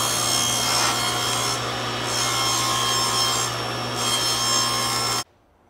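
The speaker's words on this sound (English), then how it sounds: "So that's what we're going to do next, is rip the main beam down to actual size." A power saw ripping a wooden beam lengthwise for a children's balance plank gives a loud, steady, close cutting whine with slight dips in load, then stops abruptly near the end, leaving quiet; no one speaks.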